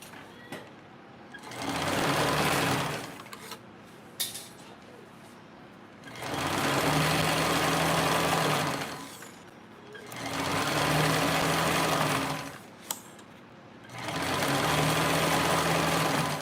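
A sewing machine stitches a quarter-inch seam in four bursts of a few seconds each. Each burst is a fast, steady mechanical whir, with short quiet pauses and faint handling noises between them.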